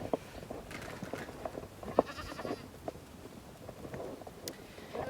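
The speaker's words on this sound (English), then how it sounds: "Y'all probably about tired of seeing me feed these goats" Goats bleat in scattered calls at feeding time on a farm, with several short cries standing out over steady outdoor noise, some near and some farther off.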